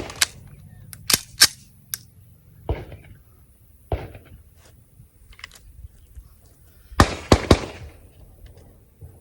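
An STI DVC Open pistol fires a string of sharp, close, loud shots in quick pairs and bursts, separated by short quiet gaps.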